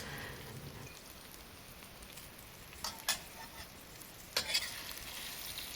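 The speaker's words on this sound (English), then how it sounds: "stir fry the minced ginger root and white scallion rings" Minced ginger root and white scallion rings stir-fry in hot oil with a steady soft crackle, interrupted by a few scraping stirs of a spatula near the middle and end, with no voice.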